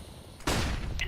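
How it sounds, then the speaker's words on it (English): A flashbang grenade going off in a shooter video game: a sudden, loud, broadband blast that cuts in after a brief quieter lead-in and rings on with a harsh, sustained wash, no talking. "Deploying flashbang."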